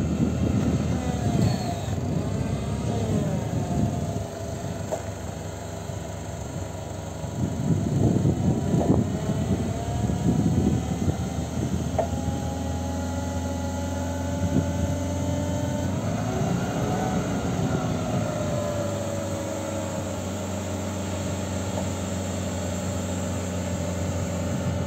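A Toyota 5FG15 forklift engine idles steadily nearby, its drone rising in pitch as the hydraulics lift a pallet of facing bricks, with a few louder rumbling surges along the way.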